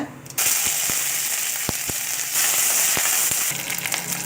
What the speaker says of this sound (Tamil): எண்ணெய் காஞ்சோன்னா கடுகு உளுத்தம் பருப்பு கருவேப்பில் காஞ்ச மிளகாய் போட்டு தாளிச்சிக்கோங்க